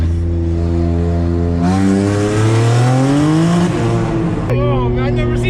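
A 700 HP Infiniti Q50 accelerates hard, its engine note climbing loud and close through rising gears with a brief shift break before pulling again.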